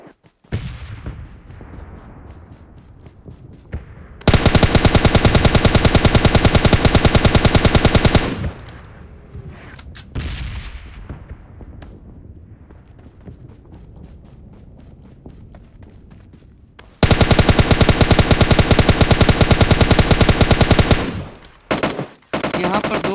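Shooting video game gunfire comes in two long loud bursts of rapid automatic shots, with quicker scattered shots, running footsteps and quieter stretches between them.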